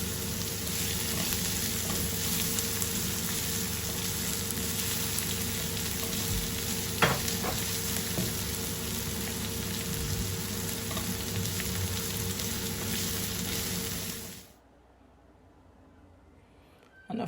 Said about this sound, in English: So into the same pan, then I put in my chopped onions